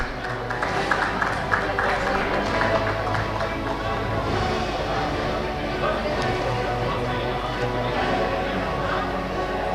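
Audience applause fills a hall at an awards ceremony during an urban infrastructure and rail summit. A steady wash of many hands clapping carries on throughout, with crowd murmur underneath.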